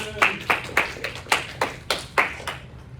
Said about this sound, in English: Let's clap it up for Justin